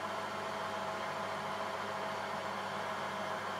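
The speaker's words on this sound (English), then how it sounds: "That's to show the tool taking deeper cuts without stopping the lathe." A metal lathe runs steadily while a tool takes a cut in mild steel, giving a continuous, even mechanical hum with a faint grinding texture and no pauses.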